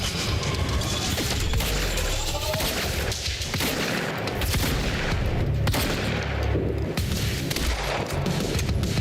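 Sniper and other gunfire in Quantum Break, a dense barrage of cracking shots and impacts layered over rumbling battle noise, loud and nearly continuous.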